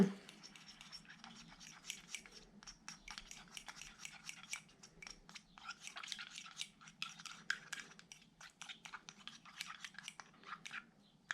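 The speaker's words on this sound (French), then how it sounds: "Alors, je mélange." Slime made from Palmolive soap and salt is stirred in a bowl, giving quick, soft, wet scraping and clicking strokes in an irregular steady rhythm, close and faint, with no talking.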